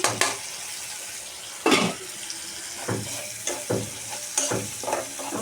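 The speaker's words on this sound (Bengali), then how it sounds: "চিংড়ি মাছ, ছোটো চিংড়ি মাছ দিয়ে দিলাম।" Small shrimp hit a pan of frying onion and garlic, a continuous close sizzle punctuated by several loud stirring scrapes and knocks of a utensil against the pan, no speech.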